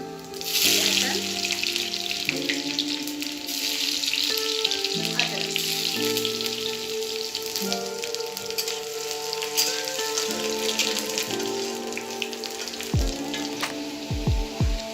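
Whole cloves, cardamom and cumin seeds sizzle in hot oil in a pan for chicken curry, a steady bright hiss under loud background music, with a few low thumps near the end.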